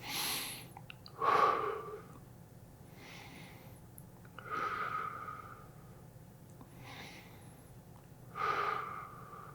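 Slow, deep breaths taken while holding a stretch in an upper back pain relief routine, three or four long, close, audible breath cycles with quiet pauses between and no talking.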